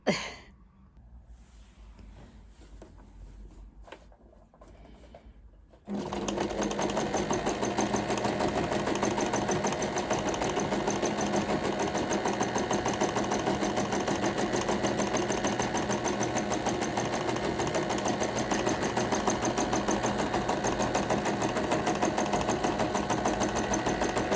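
Sewing machine stitching umbrella fabric: after a few seconds of quiet handling noise, the motor starts and runs in a steady, loud, continuous whirring hum with rapid needle clatter until the end.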